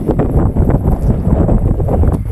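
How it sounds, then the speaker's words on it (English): Strong wind blows steadily and loudly outdoors, a continuous low rumbling buffet across the microphone with gusty surges throughout and no voices. "If you're unable to hear, it's still very, very windy."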